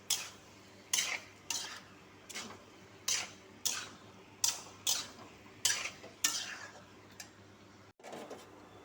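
Soybean chunks and potato are sautéed in spice masala, heard as a long run of evenly spaced scraping stir strokes against the pan over a faint hiss, with a thud near the end.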